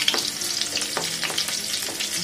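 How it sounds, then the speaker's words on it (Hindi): Green chillies and curry leaves fry in hot oil in a pan for chhole, giving a close crackling sizzle dotted with quick spatters and light stirring scrapes, no voices. "थोड़ा सा मिर्च को पका लेते हैं"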